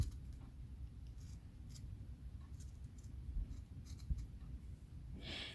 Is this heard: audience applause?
no